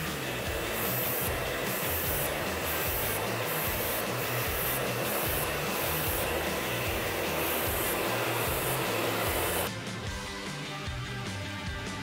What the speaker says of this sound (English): you just blow dry it through just to straighten out everything so he doesn't have the curls